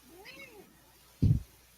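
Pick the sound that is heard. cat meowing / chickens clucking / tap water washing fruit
cat meowing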